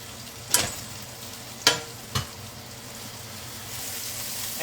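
Salmon and green peppers sizzle in a frying pan, a soft, steady hiss broken by a few sharp clicks and scrapes, close and fairly quiet, with no talk.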